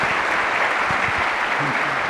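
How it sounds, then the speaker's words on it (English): Sustained applause for award winners from a sizable keynote audience, steady and dense throughout with no pauses, filling the whole moment. "One last round of applause for our award winners."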